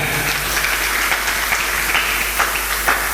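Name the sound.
applause, clapping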